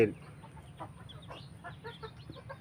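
An eight-month-old young chicken clucking in short, soft, repeated calls at a moderate distance, quiet and alone against faint background hiss.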